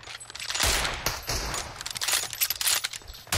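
Gunfire in a roleplay video game, a loud, dense burst of rapid shots with sharp cracks and rattling, heard close with no talk.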